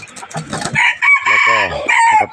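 A bantam rooster crows loudly and close by on a farm in the evening, one long drawn-out crow following a short burst of clucking.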